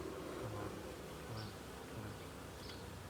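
Honey bees drone continuously inside a hive being inspected, a close, even buzz that holds steady throughout with no talking.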